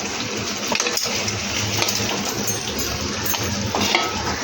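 Fried paneer is stirred into a bubbling korma gravy, giving a soft, continuous sizzle with light scraping and a few faint utensil clinks against the pan.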